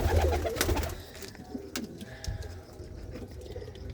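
Pigeons coo in a breeding loft where paired birds are laying eggs, a louder burst of cooing at the start followed by quieter, intermittent coos and rustling.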